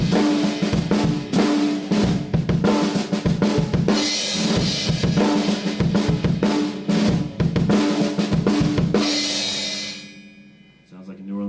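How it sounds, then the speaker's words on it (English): A drum kit plays a groove with a New Orleans street-beat feel: dense, busy snare and kick patterns with crashing cymbals, loud and continuous for about ten seconds, then the kit stops and rings out. "Sounds like a New Orleans street beat, doesn't it?"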